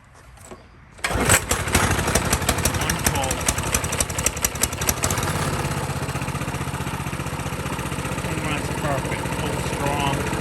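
Honda CT200U motorbike, just after carburetor cleaning and fresh gas, kicks into life after a quiet start with a loud sputtering burst, then holds a steady, close, rapid idle putter.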